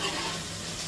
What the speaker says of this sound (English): we get back some frying action